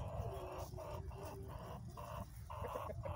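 A hen with a frog in her mouth clucks repeatedly in short, uneven bursts close by, with other fowl sounds in the background.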